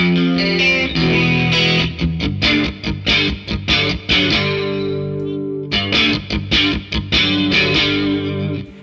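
A guitar played through a chorus effect pedal rings out alone: a run of strummed and picked chords with shimmering, slightly distorted sustain, loud and close, with brief pauses between phrases.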